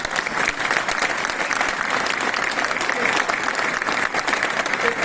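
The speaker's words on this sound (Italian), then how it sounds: "voglio che facciamo un applauso col cuore al presidente Berlusconi" An audience at a centre-right political holiday gathering applauds steadily and loudly, a dense wash of many hands clapping close by for several seconds.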